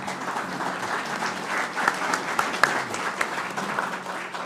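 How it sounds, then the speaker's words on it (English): A crowd at a county executive candidates forum applauds, a steady wash of clapping with a few sharper claps standing out near the end. "if you want to give them a round of applause"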